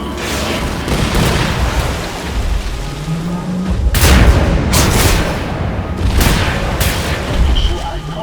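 Missile explosions and gunfire in the shooter Wolfenstein: The New Order, with heavy booming blasts and sharp bursts of fire over a constant roaring battle din, loudest around the middle and repeating in waves.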